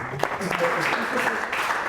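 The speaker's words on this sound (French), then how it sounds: "Ah, on l'applaudit" An audience at an improvisation class claps briefly, a short burst of applause close by with voices mixed in.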